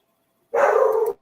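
A single loud, close dog bark or yelp rings out on its own after a short silence, sustained for about half a second with a sharp cutoff.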